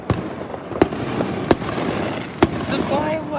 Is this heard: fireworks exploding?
yes